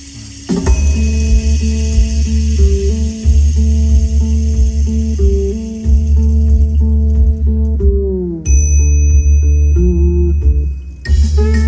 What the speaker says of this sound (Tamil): பெல் சவுண்ட் மெதுவாக லெஃப்ட் இருந்து அப்படியே ரைட் வரைக்கும் வரும்